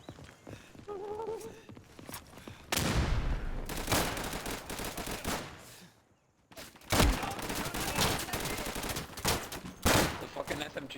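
Rapid submachine gun bursts in the Day of Infamy game crackle loudly in clustered volleys, separated by a short quieter gap before the firing resumes in dense repeated strings.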